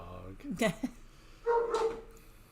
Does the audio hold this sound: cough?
no